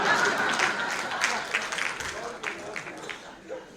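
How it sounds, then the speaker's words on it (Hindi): Applause from an audience at a Hindi kavi sammelan poetry recital, a steady wash of clapping that tapers off gradually, with a voice speaking faintly beneath it. "तालियां कमजोर है आपकी"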